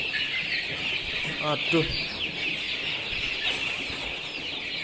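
Chickens cluck over a steady background of high insect-like buzzing on a poultry farm raising chicks, with a brief exclamation from a man partway through.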